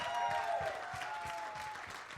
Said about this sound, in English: A big round of applause for these kids.